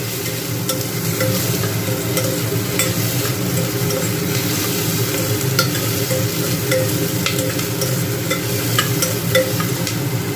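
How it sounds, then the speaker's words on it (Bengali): Steady, dense sizzling of whole spices tempering in hot oil in a pan for chicken stew, continuous and close throughout with faint crackles and no voices. "এবারে আমরা যেটা করব এটা আরেকটু ভাজা হবে খুব সুন্দর ফোড়নের গন্ধটা বেরিয়েছে"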